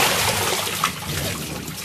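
Water splashes and trickles over a child in a pool during water play, a steady wet pouring wash lasting about two seconds with one small splash in the middle.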